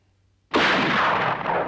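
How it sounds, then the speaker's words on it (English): A single rifle shot in a Western: one sharp, loud report after a moment of silence, followed by a long rumbling echo that slowly fades. "Now I'd like you to fire one bullet from your rifle, please."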